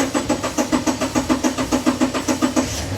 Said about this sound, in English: go ahead and start the car, leave it in park